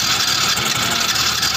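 A Mio Soul i125 scooter with a leaking cylinder head and a hard-starting problem is run on its electric starter, giving a loud, steady, close mechanical drone with a constant buzzing vibration and no voices.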